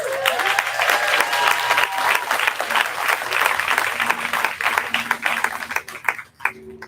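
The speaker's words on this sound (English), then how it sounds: "I encourage the audience to give a raucous cheer for each one that I call" An audience at a naturalization ceremony in Greeley breaks into loud, sustained applause with cheering, a dense wash of clapping that thins out and trails off at the end.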